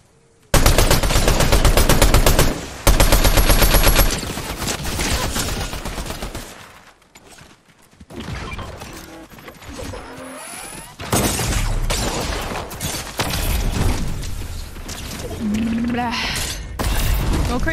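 An automated turret in a video game fires long, loud bursts of rapid gunfire, with shattering and thuds between the volleys, while a player talks over the action.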